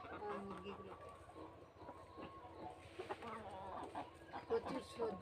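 Chickens cluck and squawk close by, a busy overlapping flock scratching and pecking while being fed vegetables such as gourd, with a person speaking now and then.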